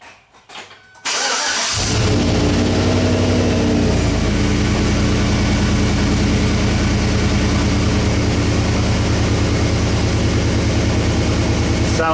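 Chevy Silverado truck engine starts up after a brief low rumble, then runs steadily and loud, its exhaust droning heavily at close range with no talk over it.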